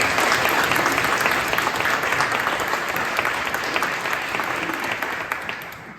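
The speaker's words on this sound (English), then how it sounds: "I think that he deserves a round of applause." A banquet audience at a drag racing awards dinner gives a sustained round of applause, a dense wash of many hands clapping that holds steady and begins tapering toward the end, with faint voices mixed in.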